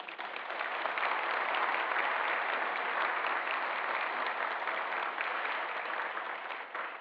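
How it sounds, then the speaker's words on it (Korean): A church congregation at a Sunday service claps steadily in encouragement for a missionary serving in Nepal, a dense, even wash of applause that holds at full strength for about seven seconds with no talking over it. "격려의 박수 부탁드립니다."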